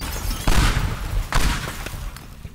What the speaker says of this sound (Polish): Ale to fajnie wybucha